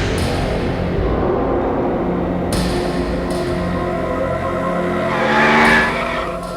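A vehicle driven recklessly, its engine roaring steadily with sharp tire squeals and skidding bursts, rising into a louder surge near the end, with no voices.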